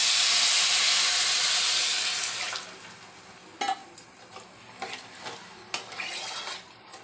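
A pot of khichuri made with Gobindobhog rice comes to the boil, a loud steady steam hiss that fades after a couple of seconds, leaving quieter bubbling with occasional clinks of a spoon against the pot.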